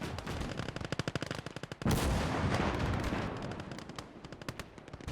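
Rapid machine-gun bursts in the WW2 real-time strategy game Gates of Hell, a dense rattle of shots interrupted by a heavy artillery blast that rumbles before the firing resumes.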